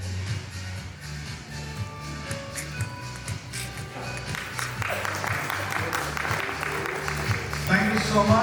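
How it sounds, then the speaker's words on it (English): An audience at a parish hall opening ceremony breaks into applause that starts sparse and swells into fuller, steady clapping toward the end, mixed with a speaker's voice over a sound system early on. "Let's clap."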